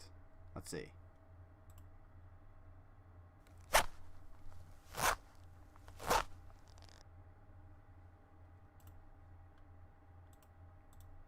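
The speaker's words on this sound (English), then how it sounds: "That sound is a fly zip." Several short, sharp zipper zips on a fly, three distinct bursts spaced about a second apart after an earlier quick one, close and fairly loud over a low background hum, with a brief spoken word near the start.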